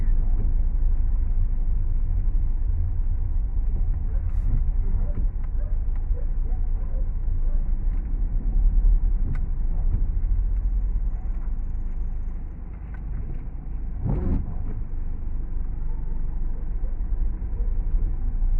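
Steady traffic crawls along a wet road in Cabanatuan during heavy typhoon rain, a continuous low rumble of engines and tyre hiss on water with a brief louder whoosh of a passing vehicle near the end.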